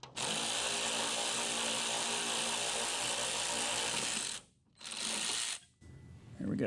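Power tool driving off the last hood bolt on a 1989 Ford Foxbody Mustang GT, a loud continuous whirring mechanical run with a brief stop and a second short burst, close and without talk.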